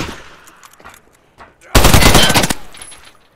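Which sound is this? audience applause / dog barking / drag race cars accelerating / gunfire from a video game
gunfire from a video game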